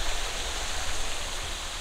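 A multi-layered waterfall at a pool in Nha Trang, Vietnam, heard as a steady, dense, close rush of falling water without pauses or other sounds.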